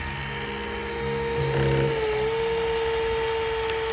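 A hydraulic rescue cutter cuts through a car's B-post during a rapid side-out vehicle extrication. It gives off a steady, loud mechanical whine whose pitch shifts slightly midway, with no talking.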